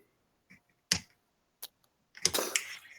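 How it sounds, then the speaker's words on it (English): A few short, sharp clicks and scrapes from an X-Acto hobby knife scoring a seam line into a scale model, separated by quiet pauses and followed by a busier burst, close and fairly faint. "we'll just take and do a little X-Acto cut like that"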